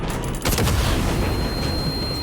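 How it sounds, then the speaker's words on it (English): A flashbang goes off in Vampire The Masquerade Bloodlines 2 with a sudden loud blast, followed by a dense, ringing wash of noise that lingers and covers the rest of the moment, with a thin high tone running through it. "Of course that's still a flashbang"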